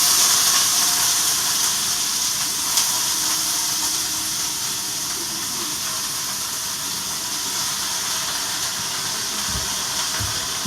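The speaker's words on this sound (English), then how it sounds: "Okay, cabbage is being sauteed up." Cabbage sautéing in a pot, a constant hissing sizzle that holds evenly throughout with a few low knocks near the end.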